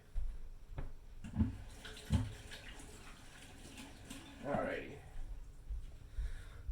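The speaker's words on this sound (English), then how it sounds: "let me rinse my hands off really quick" Hands rinsed under a running kitchen tap, a soft continuous water flow with a few splashes close by, while a person's voice is heard over it.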